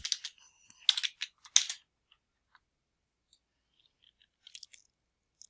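Computer keyboard keys tapped in quick close bursts while typing into a university library website's settings, then a few scattered single clicks after a pause, with no talk.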